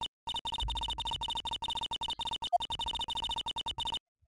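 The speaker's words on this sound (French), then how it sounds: "j'ai le téléphone qui sonne" Rapid repeated electronic telephone ring from the Phoenix Wright: Ace Attorney Justice For All game, a steady bright trilling pulse in quick bursts for about four seconds, loud and alone, ending abruptly.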